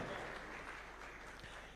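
Faint clapping from a crowd at State House, Nairobi, steady and distant, lasting only a moment.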